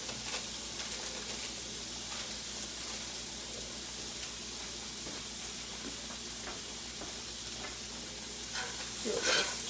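Red pepper flakes and Italian seasoning sizzle in a frying pan as the food is stirred, a steady close frying hiss with faint scraping strokes that swells louder near the end.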